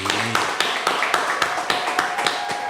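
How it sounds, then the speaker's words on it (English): Rhythmic claps from a small audience, about ten evenly spaced sharp hits over a couple of seconds, fairly close, with a steady faint tone running beneath. "So let's clap it up for last season, baby."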